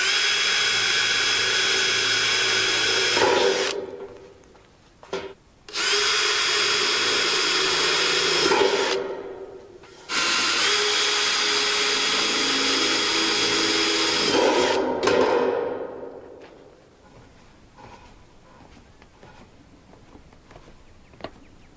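A power drill bores into a garden rake in loud, sustained bursts with short pauses between them, then winds down and trails off into quiet handling noise.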